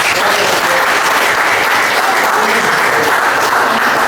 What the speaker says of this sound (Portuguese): dar um forte aplauso a Jesus.